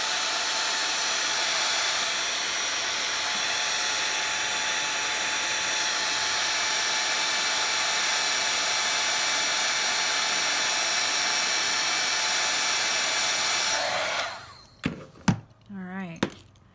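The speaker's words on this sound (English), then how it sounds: "now I'm going to heat that again, and we'll get that nice shiny glaze on top." Heat gun melting embossing powder into a shiny glaze, a steady, loud blowing hiss that runs for about fourteen seconds and then cuts off, followed by a few thumps and brief talking.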